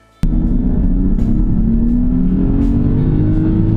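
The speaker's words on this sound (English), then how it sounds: "if you step and hold all the way, Mercedes call it kick down, you're gonna get full maximum power" A Mercedes car accelerating at full power under kick-down, its engine note bursting in abruptly and then climbing steadily as a loud, continuous close-up roar with no talk.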